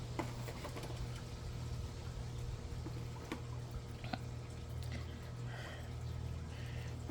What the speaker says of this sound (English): with a little bead of water squirting up about an inch